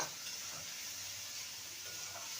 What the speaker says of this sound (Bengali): আদা আর টমেটোকে ভালো করে কষিয়ে নিয়েছি